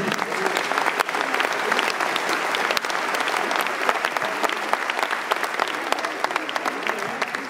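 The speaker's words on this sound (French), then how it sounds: "Vous pouvez applaudir." An audience at a regional political rally for Bruno Retailleau in Levallois applauds, a dense, loud, continuous clapping that holds steady from start to finish.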